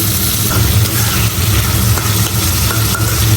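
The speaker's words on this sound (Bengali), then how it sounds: "মশলাটা কষাই নিলাম এখন এখানে মাংস দিয়ে দিচ্ছি" Meat hitting hot fried spice paste in a pan, a loud, close, continuous sizzle with stirring scrapes running through it.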